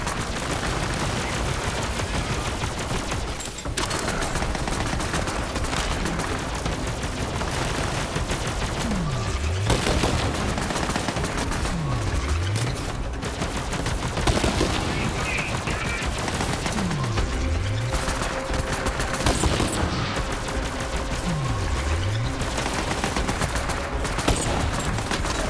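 Gunfire fills a Borderlands 3 firefight: dense, continuous automatic bursts and blasts layered with game effects, loud throughout, with several sweeping whooshes between the shots.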